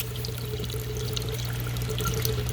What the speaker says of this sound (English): you can see the water's coming through there